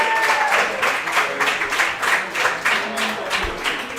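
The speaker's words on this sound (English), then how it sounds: "Can we get a round of applause for the Baldwinsville Bees fan football team?" A crowd applauds the Baldwinsville Bees high school football team at a live show in a pizza restaurant, with loud clapping that swells and dips in rhythmic pulses and keeps going for the whole stretch.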